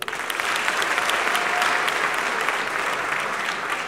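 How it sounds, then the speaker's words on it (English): Applause from a comedy-show audience in London breaks out for a friend in the crowd, a dense, steady wash of clapping that holds at full strength for the whole stretch. "I want to clap for her."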